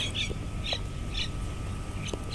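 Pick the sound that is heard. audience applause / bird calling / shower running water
bird calling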